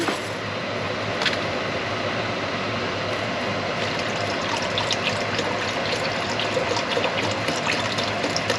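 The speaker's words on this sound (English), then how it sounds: "let me add just a little bit more broth" Seafood stock pours into a pot of seafood gumbo in a home kitchen, a continuous gushing trickle of liquid that runs steadily from start to finish, close and moderately loud, with no voices.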